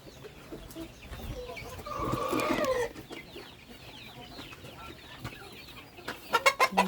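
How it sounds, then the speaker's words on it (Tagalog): Chickens and chicks clucking close by, with a louder run of hen clucks early on, scattered chirps and cackles throughout, and a rising burst of calls near the end. "Punta tayo dito sa ibang sisiw."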